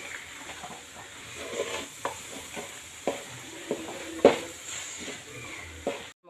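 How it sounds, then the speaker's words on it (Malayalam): Garlic frying in a hot pan while being stirred, with a steady sizzle and a run of scraping stirs, the loudest around the middle, close and fairly quiet. "നമ്മൾ വെളുത്തുള്ളി ഇതിലേക്ക് ഇട്ട് കൊടുക്കണം. നന്നായി ഒന്ന് മിക്സാക്കി കൊടുക്കണം."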